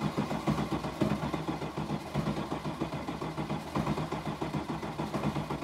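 A car with a misfiring engine cranks and runs rough, its uneven mid-pitched chugging pulsing steadily and close by, with no voices.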